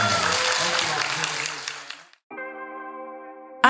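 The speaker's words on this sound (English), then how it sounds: "Give them one more round of applause." A crowd applauds and cheers after a voguing dance performance. The clapping is loud at first and thins out over two seconds, then cuts to near silence before a sustained, tonal musical sound begins.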